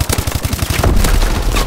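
Automatic weapon fire in Advanced Warfare team deathmatch multiplayer: a rapid, steady burst of close, loud shots, followed by a heavier rumbling wash of gunfire and blasts.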